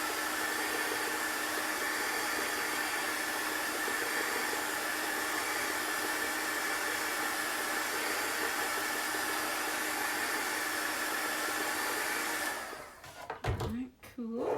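A hair dryer blows steadily on chalk paste, a loud, constant whoosh running for about twelve seconds before cutting off into rustling handling noises.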